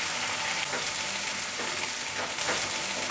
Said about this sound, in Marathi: आता हे वाटण आहे ना ते परतून घेऊया थोडं.